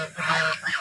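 Geese on a farm in the late afternoon give a couple of loud, nasal honks close by, one right after another.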